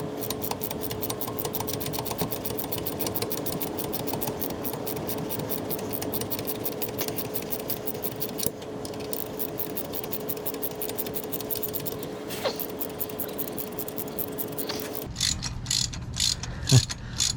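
A ratchet works a very long bolt loose on a 1983 Porsche 944, its rapid, continuous clicking running on for many seconds before the strokes slow into a few separate, slower clicks.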